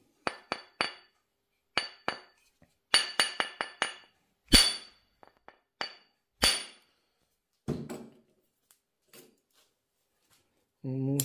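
An aluminium or copper hammer taps a Yamaha Jog scooter part in a workshop, striking about fifteen sharp metallic blows in irregular groups, some single and some in quick clusters, with a brief low rumble at the end.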